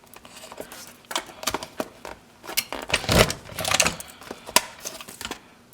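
An electronic cutting machine cuts sticker plastic, giving a quiet run of rapid ticking and tapping clicks that builds into denser, louder bursts toward the middle before thinning out again.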